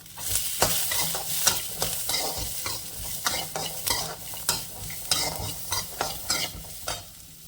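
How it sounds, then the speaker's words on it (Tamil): Small shallots and garlic sauté in a pan for pirandai chutney, with a continuous sizzle overlaid by rhythmic, repeated stirring scrapes of a spatula, close by and without voices. "கொஞ்சம் சின்ன வெங்காயம், கொஞ்சம் பூண்டு இப்போ போட்டு வதக்கிக்கலாம்"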